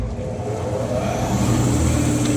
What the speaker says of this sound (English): So now I'm going to turn on the spindle.